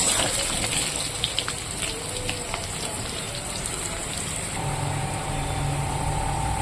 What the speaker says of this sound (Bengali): পটলটাকে আমি লাল লাল করে ভেজে নেব ভেজে নামিয়ে নেব